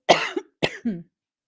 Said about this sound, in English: That was a genuine cough.